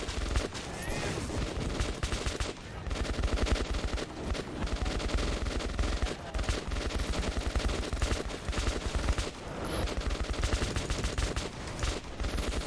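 Dense, continuous gunfire from enemies in the post-apocalyptic Russian shooter Metro 2033 Redux, with rapid overlapping bursts and volleys sustained loudly for over twelve seconds and no talk.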